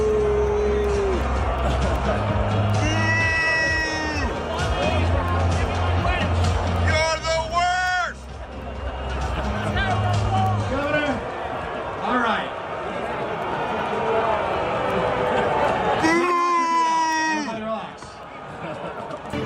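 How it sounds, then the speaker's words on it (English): A large crowd at an outdoor ceremony greets the governor with a sustained roar of voices and scattered shouts, a broad murmuring mass rising and falling throughout. "listen to the response of the crowd"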